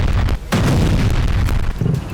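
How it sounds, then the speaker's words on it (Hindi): A drone strike in Moscow produces heavy booming blasts, a loud close thud followed by another burst, with rumbling between them. "दूसरे ड्रोन से जबरदस्त धमाका हुआ।"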